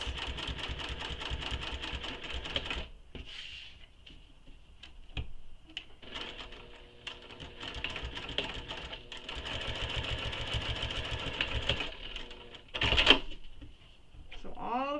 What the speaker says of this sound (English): we're going to top stitch down those folded edges